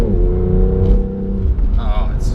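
A BMW M2 or M135i engine revs under load while the car is driven hard, the strong low drone rising and easing across the whole stretch, with someone talking over it throughout.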